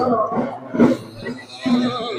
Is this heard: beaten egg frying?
no